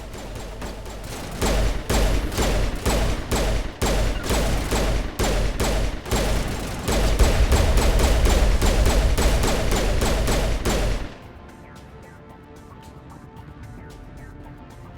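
Gunfire in Mass Effect Legendary Edition: rapid bursts of sharp, loud shots fire in quick succession for about ten seconds, then stop abruptly, leaving a quiet low ambience.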